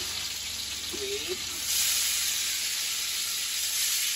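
Garlic and wild mushrooms frying in a pan, giving a steady close sizzle that gets louder partway through as more goes in, with a faint voice briefly underneath.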